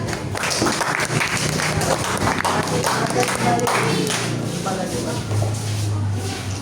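A class of students in a music lesson claps together in a loose round of applause after a group performance, mixed with shuffling and voices in the classroom.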